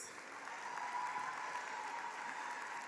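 A graduation ceremony crowd applauds steadily, dense clapping filling the hall at an even, sustained level with no voices breaking through.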